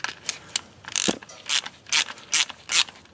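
A ratchet and six-point socket backing out a bolt on a Porsche, next to a removed center nut, rattles off several quick bursts of clicking pawl strokes, loud and close, with no talking.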